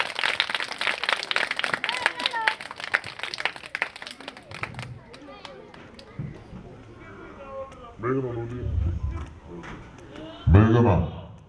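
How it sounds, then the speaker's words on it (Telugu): Audience clapping at a retirement function, a dense burst of hand claps over the first few seconds that fades out, followed by a crowd murmuring and people talking nearby. "క్లాప్స్ కొట్టండి అన్న"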